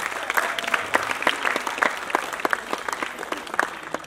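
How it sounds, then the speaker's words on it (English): An audience bursts into sustained, dense clapping at a Nigerian event for the film Anikulapo, applauding sponsors such as Nigerian Breweries, Goldberg and Amstel Malta, with sharp individual claps standing out from the steady crowd roar. "can we clap for them, please?"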